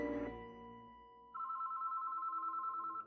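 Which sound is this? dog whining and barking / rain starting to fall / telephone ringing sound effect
telephone ringing sound effect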